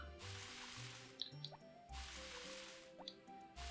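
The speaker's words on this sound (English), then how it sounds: "I need to water the grass." A watering can sprinkling grass in the farming game Harvest Moon, rendered as repeated synthetic dripping, splashing bursts with short plopping blips in a looping rhythm, fairly quiet.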